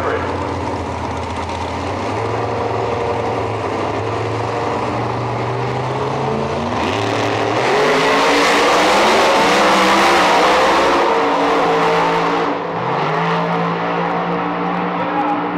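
Street drag radial cars at a drag strip, a deep engine roar at the line that erupts into a loud, rising acceleration howl as they launch, then fades slightly, with talk over a loudspeaker mixed in.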